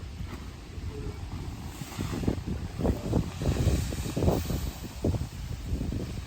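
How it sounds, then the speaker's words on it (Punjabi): Strong wind blows across an open farm field in uneven gusts, buffeting loudly and then easing between bursts, with the rushing swells building toward the middle. "ਹਵਾ ਚੱਲਦੀ ਤੇਜ਼ ਬੁੱਲਾ ਰੁਕ ਵੀ ਜਾਂਦਾ ਵਿੱਚੇ ਵਿੱਚ"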